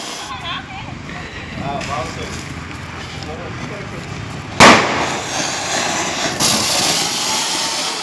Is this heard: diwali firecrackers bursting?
yes